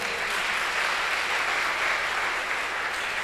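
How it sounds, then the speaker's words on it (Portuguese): A church congregation applauds during a sermon, a steady dense wash of clapping held at even loudness throughout. "Dê um aplauso ao Senhor por isso."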